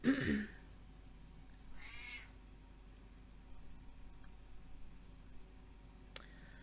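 A pet cat gives a brief meow up close at the start, then a softer second meow follows in a quiet room, with faint clicks and a sharp tap near the end.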